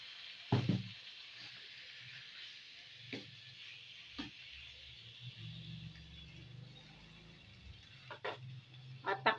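Marinated pork liempo fries in a pan with a faint, steady sizzle, broken by several sharp clunks and scrapes as the meat is placed and moved; no one speaks.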